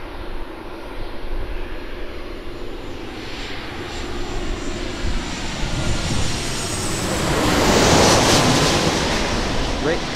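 Boeing 737-800 airliner engines at Sydney Airport, a steady broadband roar over wind and surf-like noise that swells louder toward the end as the jet nears.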